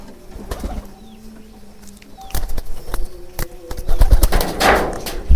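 Pigeons coo softly at a pigeon farm during feeding, one eating from a hand, amid rustling and sharp clatters, with a busy burst of wing flutter and scuffling toward the end.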